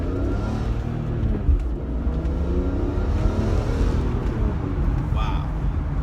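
A car engine revs up and accelerates hard, a loud rising roar with shifting harmonics that fills the whole stretch, heard from close inside.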